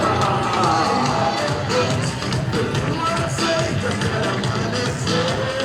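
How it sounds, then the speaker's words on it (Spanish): A parade crowd at a carnival procession applauds in a dense, continuous wash of clapping mixed with cheers and chatter, steady and fairly loud throughout. "Un aplauso para Manosa, primera, Ciudadano de Oce, Lucía."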